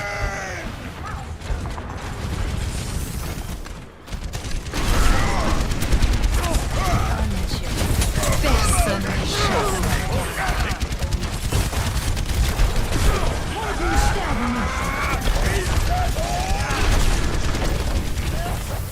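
Game battle from Overwatch: dense, continuous gunfire and grenade blasts with mechanical clatter fill the mix, loud and busy throughout, after a brief lull near the start.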